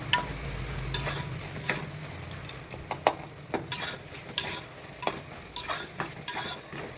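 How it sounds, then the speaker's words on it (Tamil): Brinjal and tomato being stirred and sautéed in a pan for vatha kuzhambu: a utensil scrapes and knocks against the pan at irregular intervals over a faint sizzle, with no voices. "தக்காளி நல்லா வெந்திருக்கு நல்லா வதக்கி விட்டுக்கோங்க"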